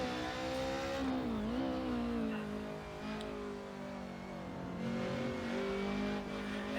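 A raspy four-cylinder BMW touring car engine in a racing simulator game, revving high and steady, pitch dipping briefly then climbing again, loud and continuous.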